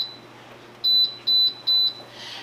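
A food dehydrator being set to 135 for drying elderberries gives three short, high electronic beeps in an even rhythm, close and clear over a quiet room hum.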